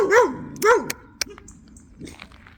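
A young Doberman barks at a group puppy class while another dog is nearby: two loud, close barks with rising and falling pitch, then a sharp yip and fainter whimpering sounds.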